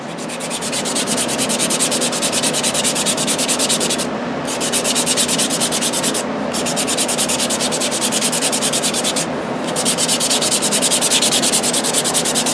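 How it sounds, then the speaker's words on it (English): Sandpaper rubs steadily over a handmade wooden Native American flute, held up rather than laid flat, in a continuous close, loud scraping broken by three brief pauses. "That's the way you want to sand it. You don't want to lay that sandpaper down flat."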